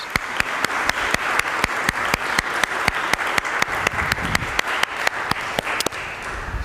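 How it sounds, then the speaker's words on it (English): Congregation applauding a confirmation class at a Palm Sunday church service: steady, dense clapping fills the room throughout, punctuated by regular sharp, louder claps from someone close by. "Let's give all of those who prepared a round of applause."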